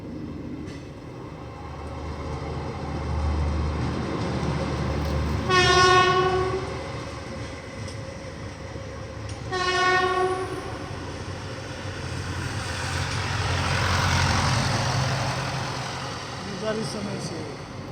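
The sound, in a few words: Nandigram Express train with horn at junction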